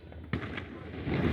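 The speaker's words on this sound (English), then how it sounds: "They're lighting fireworks over there like crazy." Fireworks set off for the Fourth of July burst some way off in a sharp crackling pop, followed by a rumbling, noisy spread of continued bangs and outdoor background noise.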